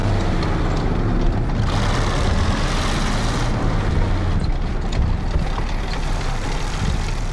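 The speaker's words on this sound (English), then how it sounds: "we could clearly hear a bulldog's engine running up ahead" A Bulldog tank engine in War Thunder runs throughout, a loud, steady, heavy rumble with a continuous mechanical roar and no pauses.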